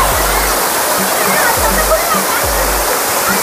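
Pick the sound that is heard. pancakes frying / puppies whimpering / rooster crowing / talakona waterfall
talakona waterfall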